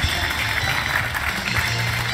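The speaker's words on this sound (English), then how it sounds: "He's not here, but hand clap for him." An audience at a Smash Bros competition talk claps in a steady, dense wash of applause that holds at an even level throughout.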